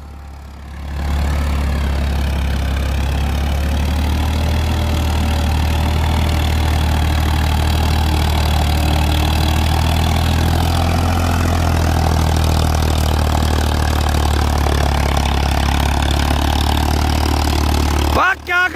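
An unmodified stock tractor engine runs steadily at idle, a loud, continuous low diesel rumble close by that holds unchanged for the whole stretch before cutting off abruptly at the end.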